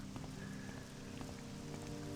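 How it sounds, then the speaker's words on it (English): Steady rain falls in Morrowind, an open-world role-playing game, a continuous dense patter of drops on surfaces with scattered louder splashes, close and even throughout with no voices. "as much as I would like to get out of the rain"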